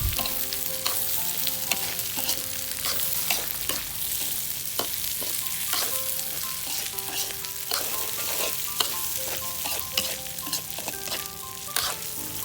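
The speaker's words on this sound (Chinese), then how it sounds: "然后我们再翻炒一下" Thai jasmine rice, 400 grams, tossed and stir-fried in a pan, a dense, steady sizzle with rapid repeated scraping strokes, close and loud throughout.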